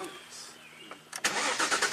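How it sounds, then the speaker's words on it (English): Jaguar S-Type V6 engine with a single-cylinder misfire cranks briefly and catches, then runs loudly and roughly up close, with faint background noise before it starts. "All right, let's crank it up. Should have a single cylinder misfire."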